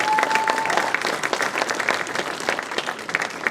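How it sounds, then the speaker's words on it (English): A crowd at an opening ceremony gives a round of applause for the drummers, a dense, even burst of many hands clapping that holds steady throughout with no talking over it. "Give them a round of applause."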